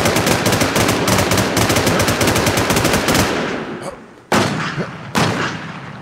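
Rapid automatic gunfire in the survival shooter WarZ sounds close and loud in dense bursts, breaks off, then two more short sharp bursts follow after a pause.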